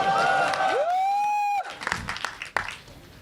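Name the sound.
crowd applause and cheering at event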